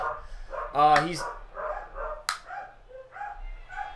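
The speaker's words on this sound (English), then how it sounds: "So my dogs just barked at you, LOL, because your dogs are barking." A few short dog barks and yips, fairly close, break in among spoken voices, with a brief higher bark later, all over quiet background.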